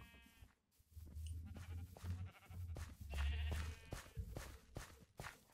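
Sheep bleating in Minecraft, several overlapping game-style bleats in irregular bursts over low rumbling background, loud and close.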